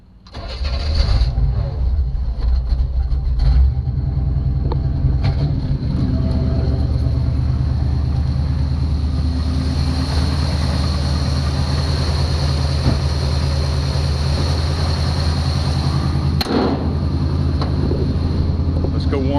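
A car engine cranks and catches in a garage right after an oil change, then settles into a steady, close idle that holds for the rest of the stretch as it warms up, with a faint rattle now and then.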